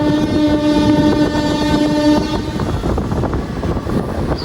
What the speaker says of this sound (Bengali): তার জন্য অনেক হরেন দিতেছে